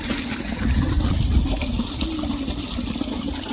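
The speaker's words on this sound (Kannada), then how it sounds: "ಕಬ್ಬಿನ ಹೊಲಕ್ಕೆ ಮತ್ತು ಸಿಂಗ ಹೊಲಕ್ಕೆ ನೀರು ಬಿಟ್ಟಾರ" Water released into sugarcane and groundnut fields gushes and rushes steadily nearby, a loud continuous flow with no talk over it.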